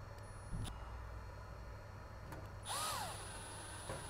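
Two black screws fasten a fascia panel on a Luminar unit. A quiet scene holds a couple of brief power-driver whirs, a faint click and a short rising whine over low background hum.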